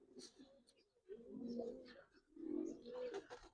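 Coloring Giribaz pigeons coo at a farm, with repeated low throaty coos rising and falling close by while people talk over and between them.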